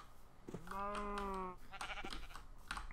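Sheep in the Minecraft Blightfall mod gives a single drawn-out, wavering bleat lasting about a second, loud and close, followed by softer clicks and faint background noise.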